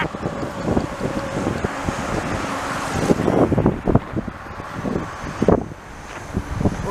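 Wind gusts across a cold evening street on Park Avenue in Montreal, buffeting the microphone in uneven rushes, with traffic rumbling faintly beneath.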